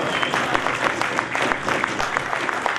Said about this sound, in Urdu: ایک بار پھر آپ لوگوں کی تالیوں کی گڑگڑاہٹ کے بیچ